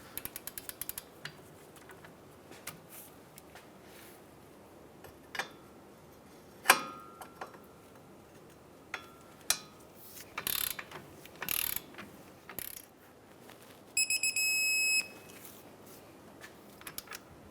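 Torque wrench tightening the lower suspension knuckle bolt to 170 foot-pounds on a 2007-2015 Mazda CX-9, giving scattered mechanical clicks and ratchet snaps with pauses between, close by, with a quick burst of rapid clicks near the end.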